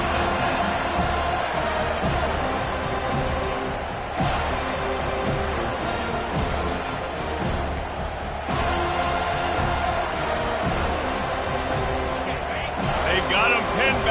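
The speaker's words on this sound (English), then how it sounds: "listen to this crowd coming through" A stadium crowd roars and cheers in the College Football 25 video game, a dense, sustained wash of noise running beneath a commentator's voice.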